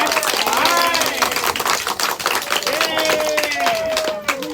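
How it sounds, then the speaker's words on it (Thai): A group at a school vegetable garden claps loudly in unison during a sunflower-planting demonstration, with dense, rapid claps and voices mixed in. "เราจะปรบมือพร้อมกันดังๆก่อนเพื่อเป็นการเพิ่มพลัง"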